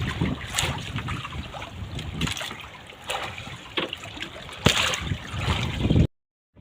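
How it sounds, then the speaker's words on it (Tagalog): Big sea waves and strong wind roar over an open boat, loud buffeting wind noise with surges of water and crashing surf, ending abruptly. "Ang lalaki ng alon."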